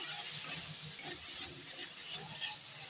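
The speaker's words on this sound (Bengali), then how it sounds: "মাছের ডিমটা দিয়ে আমি মশলাটা কষে নিচ্ছি" Rohu fish roe frying with spice paste in a pan, a steady close sizzle and hiss with soft stirring scrapes throughout, no talk.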